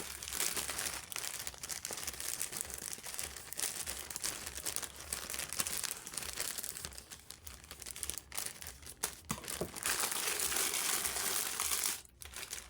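Plastic parcel packaging for a jacket is cut and torn open with scissors, giving a steady, close crinkling and rustling that runs throughout with a few louder tearing bursts near the end.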